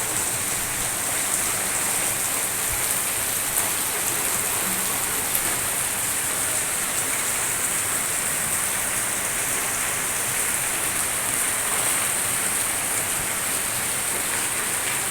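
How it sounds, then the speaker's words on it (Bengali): Heavy rain pours down in a dense, steady hiss that fills the whole stretch without a break. "দেখো কীরকমভাবে বৃষ্টি হচ্ছে প্রচুর পরিমাণে বৃষ্টি হচ্ছে আমাদের এখানে"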